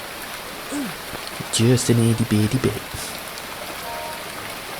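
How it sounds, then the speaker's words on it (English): Soft, steady rain hiss from a zombie shooter video game runs throughout, faint under a man's brief speech. "Or if this is actual rain that's just replaced that sound"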